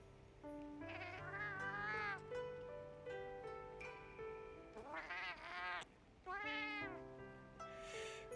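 A small cat in the Monster Hunter Wilds video game meows several times, clear, drawn-out cries spaced across the stretch over a quiet steady background tone.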